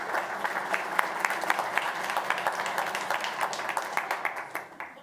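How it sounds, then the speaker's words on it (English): An audience claps steadily at a central banking innovation summit, dense applause filling the room throughout before tapering off at the end, with no talk over it. "Give him a clap."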